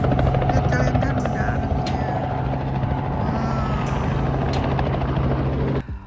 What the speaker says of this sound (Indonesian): helikopter itu akan mendarat